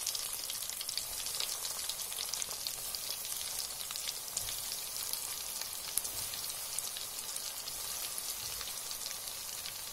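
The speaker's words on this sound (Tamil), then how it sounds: "இப்போ இதை நம்ம வந்து ஆயிலில் போட்டுடலாம்" Kola urundai meatballs deep frying in hot oil over a medium flame give a steady, dense crackling sizzle that holds at the same level throughout, with no talking.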